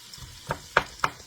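Vegetables sautéing in extra virgin olive oil for clam chowder, with a soft sizzle and three distinct stirring scrapes of a utensil against the pot, close and brief with no talking.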